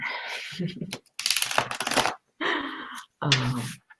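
Tarot cards riffle and slap in short bursts with brief pauses between, close by, a voice faintly present under the shuffling.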